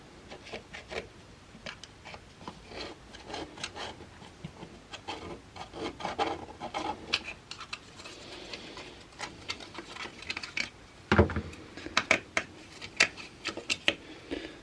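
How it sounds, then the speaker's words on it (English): A flat-bladed screwdriver pries a plastic cover off a watercooled alternator, making quiet close scraping and rubbing with irregular clicks and small snaps, a sharper crack near the end, no talking. "Now I just need to try and carefully pry this plastic cover away."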